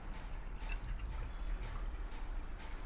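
Water poured into a glass of creatine powder, a soft steady trickle and splash lasting a few seconds, close by with no talking.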